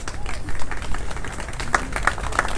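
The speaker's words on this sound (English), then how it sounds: "Let's give them a round of applause." Scattered applause from an outdoor crowd at a Tibetan national flag raising ceremony, moderately loud and uneven, with individual claps standing out and some voices mixed in.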